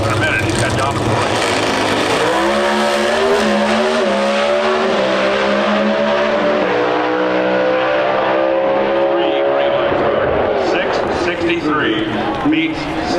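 Pro Stock drag race cars at an NHRA eliminations event in Chicago, a loud roaring engine climbing steadily in pitch through rapid gear changes, then fading off into the distance, with a commentator talking over it.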